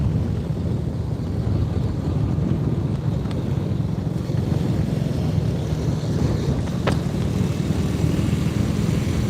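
Loud, steady rumble of headwind buffeting the microphone while cycling at about 25 mph, a constant low roar without breaks and only a couple of faint clicks.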